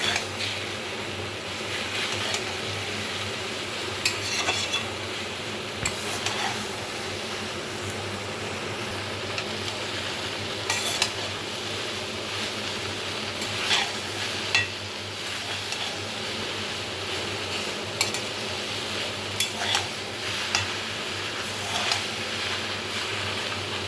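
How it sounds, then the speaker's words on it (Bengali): Salt being stirred into ridge gourd and prawns in a pan: a steady soft scraping and shuffling with faint sizzling underneath and occasional light clicks of the spoon, close and continuous, with no talking. "খুব ভালোভাবে মিশিয়ে নেব।"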